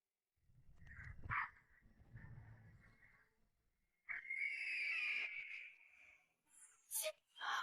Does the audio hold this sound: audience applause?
no